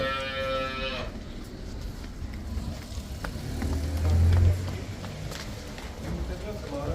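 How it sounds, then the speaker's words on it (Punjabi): A Jersey cow lets out a low, drawn-out moo amid outdoor farm noise, with a brief engine-like drone at the start and scattered rustling. "ਬਾਕੀ ਇਹ ਵੀ ਹੈਗੀਆਂ ਜਰਸੀ ਦੀਆਂ ਗਾਵਾਂ"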